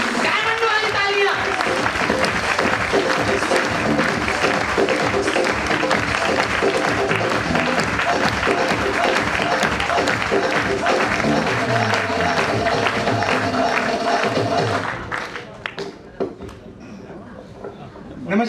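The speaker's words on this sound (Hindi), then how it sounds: "जोरदार तालियां" A seminar audience in Delhi breaking into loud, sustained applause, a thick wash of clapping from a large crowd that carries on for a long stretch before fading away, with a voice speaking over the tail end.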